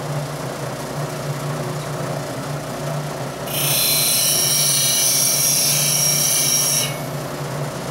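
Grinder with a CBN wheel runs as a steady motor hum, then a bright, loud grinding screech lasts about three seconds while flats are ground on a point tool, before the motor hum continues alone.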